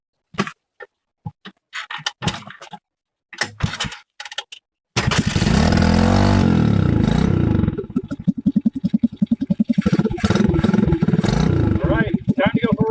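A motorcycle is kicked over by hand with a few sharp mechanical clunks and clatters, then the engine catches and settles into a loud, steady close-up idle with a dense, rapid putter that continues to the end.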